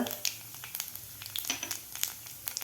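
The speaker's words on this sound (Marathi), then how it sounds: "मोहरी आपल्याला व्यवस्थित फुलू द्यायची आहे व्यवस्थित फुललेले यामध्ये घालायचे आपल्याला जिरे हळद हिंग" Mustard seeds, cumin, turmeric and asafoetida sizzle in hot oil, a steady close crackle with scattered sharp pops and spits throughout.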